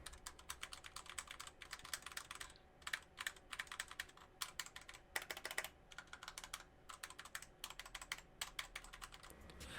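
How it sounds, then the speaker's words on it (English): Steady, fast typing on a Royal Kludge RK61 budget mechanical keyboard with tactile brown switches, dense bursts of close, crisp key clicks with a few short pauses and no talking. "The keys have a nice distance to press, and the brown switches do a good job of giving you a small tactile bump when pressing."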